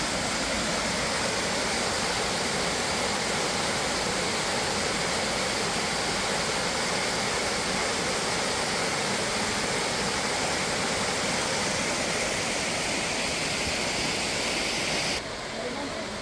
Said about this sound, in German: wie der Wasserfall sich hier ergießt.